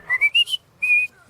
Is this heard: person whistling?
yes